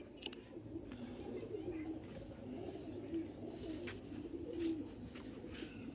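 Pigeons in a loft that holds a male bird give low, rolling coos in a continuous soft murmur. The coos swell and fade over several seconds, with no talking.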